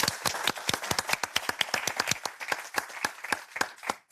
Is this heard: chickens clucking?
no